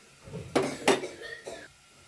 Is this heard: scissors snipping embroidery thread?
no